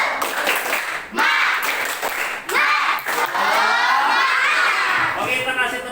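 A primary school class of fifth graders performs a rhythmic spirit clap in the classroom, loud bursts of patterned clapping mixed with children's shouting and a teacher's voice.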